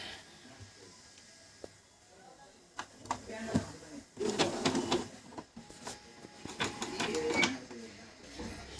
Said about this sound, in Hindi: ये देखिए हमारा प्रिंटर यहाँ पर रेडी हुआ। रेडी होने के बाद यहाँ पर रेडी होने के बाद एक कमांड दे दिया मैंने, पेपर डाल दिया